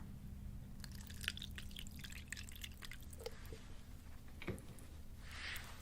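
Cold tap water drips in a quiet room, a few faint scattered drops and small splashes over a low steady hum.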